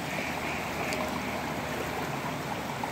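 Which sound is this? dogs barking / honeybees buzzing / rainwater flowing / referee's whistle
rainwater flowing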